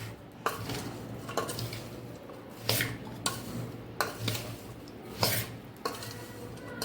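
Spice masala being mixed into raw mango pickle for an instant pickle, with close, intermittent clinks and scrapes of a spoon against a bowl over a soft, grainy rustle.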